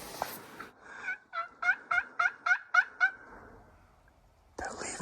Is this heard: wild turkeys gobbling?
yes